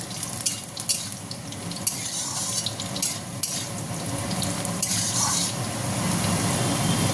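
Diced potatoes frying in a pan with cumin seeds, a steady crackling sizzle punctuated by the scrape and clatter of a spoon stirring, loud and close throughout.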